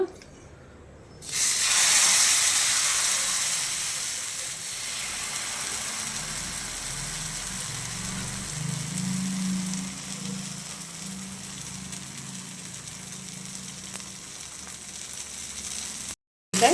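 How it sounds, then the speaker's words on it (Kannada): Tomato rava dosa batter poured onto a hot tawa sets off a steady, loud sizzle that rises sharply at the start and holds with a continuous frying hiss throughout. "ತವಾ ಬಿಸಿ ಆಗಿದೆ. ನಾವಿವಾಗ ದೋಸೆ ಹಾಕೋಣ."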